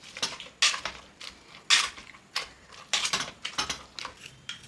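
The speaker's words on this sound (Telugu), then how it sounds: "ఇలా ఉడికిన పప్పుని స్మాష్ చేసుకుందాం." Cooked tomato dal mashed in a pot, giving a series of irregular wet clacks and scrapes from a utensil against the pot, close and moderately loud with short pauses between strokes.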